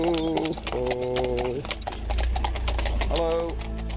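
Horse hooves clip-clopping on a hard surface in a steady rhythm at a horse event, close and clear, with music playing and someone talking over them.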